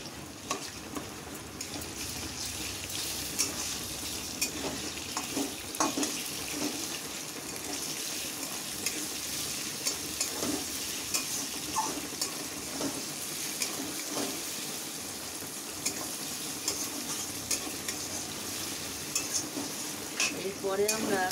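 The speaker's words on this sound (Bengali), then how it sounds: "পেঁয়াজগুলো আমাদের লাল লাল ভাজা হয়ে গেছে, এর মধ্যে আমরা চিকেনটাকে দিয়ে দেব।" Chicken frying with browned onions in a pan, a continuous soft sizzle under frequent light stirring scrapes and taps, close but fairly quiet, no talking.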